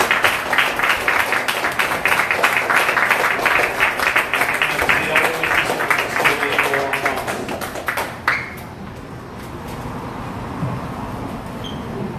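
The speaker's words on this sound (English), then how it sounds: "Please give our two guests a big round of applause." A live evening audience at a poetry discussion applauds two guests, a dense burst of clapping for about eight seconds that ends sharply, followed by quieter room noise.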